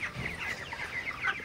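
Broiler chickens, twenty-three days old, clucking in a poultry shed, a brief burst of overlapping soft clucks and chirps from several birds nearby.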